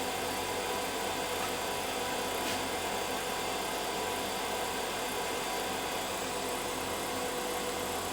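A wood lathe turns a baseball bat while a round nose scraper shapes it. A steady, droning machine whir holds at an even level for the whole stretch, with no talking.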